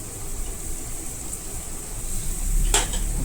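Sorrel leaves chicken curry with curry leaves cooks and is stirred in a pan, a steady close hiss of sizzling with a single sharp clink of a spoon against the pan near the end.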